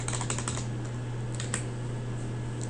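Rapid keystrokes on a computer keyboard while entering an SQL insert statement, a quick burst of clicks at the start and a few scattered taps later over a steady low hum, no voices.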